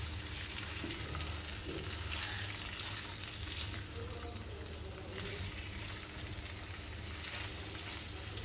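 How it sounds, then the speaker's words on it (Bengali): Chicken pieces for a pickle-style curry, mixed with spices and frying in a pan, a dense steady sizzle with occasional stirring sounds, no talking. "মাংসটা এভাবে মশলার সাথে ভালোভাবে একটু মিশিয়ে নেব।"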